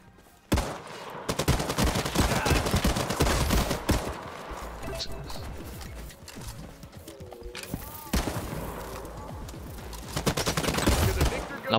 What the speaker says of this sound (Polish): Na poziomie, kurde, to strzelanie.